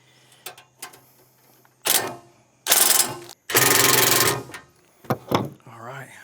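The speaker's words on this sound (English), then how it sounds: "now we're just gonna tighten all these down" Screws being driven snug into a roll-away chicken nesting box during assembly, heard as several loud bursts of a power driver, two of them sustained for about a second each, mixed with short clicks and handling knocks.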